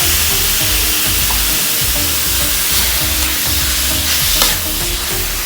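Beef and pickled bamboo shoots stir-fry in a hot pan, a loud, steady sizzle broken by repeated scraping and tossing strokes, close and continuous with no voices.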